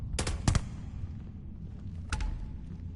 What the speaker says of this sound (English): I'm trying to make their jetpacks explode